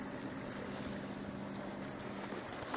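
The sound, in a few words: sailboat under mainsail, genoa and motor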